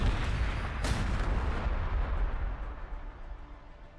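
Artillery fire in Warhammer 40,000: Gladius, a deep boom with a sharp blast near the start and a long rumbling decay that fades over several seconds, with no voices.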